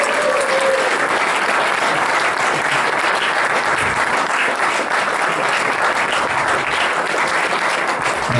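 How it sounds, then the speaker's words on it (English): One big round of audience applause at the Hellenic Club in Perth, dense sustained clapping that holds steady and loud from start to finish. "so we can do one big clap for all of that"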